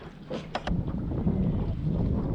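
Wind blowing across a lake during a late-afternoon fishing outing on Lake Lanier, a steady low roar and rumble buffeting the microphone, with a few brief knocks near the start.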